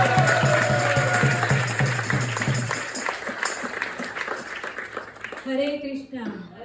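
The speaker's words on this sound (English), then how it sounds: "Please give a big round of applause." Audience applause at a temple opening, steady clapping in the first half that fades and thins out, followed by a few scattered claps and a voice speaking near the end.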